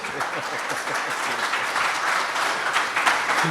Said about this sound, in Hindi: आप लोग ताली बजा के बताइए, दोनों ही लोग।